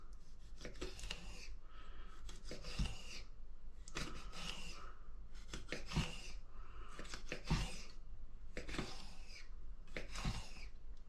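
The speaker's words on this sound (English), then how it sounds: "And for the squid, I'm just going to cut that end off." Squid being sliced into 5mm thick rings with a knife on a board, giving a series of short crisp cutting strokes in irregular clusters, close and moderately loud, with no talking.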